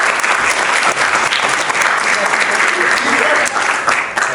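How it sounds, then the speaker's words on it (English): A school student government day crowd applauding for an assistant principal, loud sustained clapping from many hands filling the room throughout. "Let's give him a round of applause."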